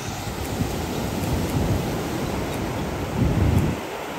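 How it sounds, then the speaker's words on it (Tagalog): Strong ocean surf rolls and breaks at a beach in a steady broadband wash, with a louder surge of waves near the end and no talk. "Oh, lakas ng alon, no?"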